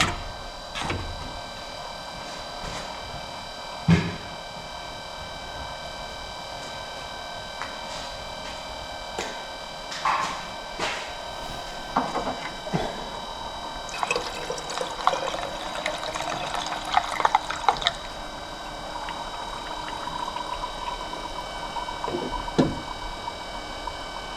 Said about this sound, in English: When it starts taking water, you'll hear the pump change.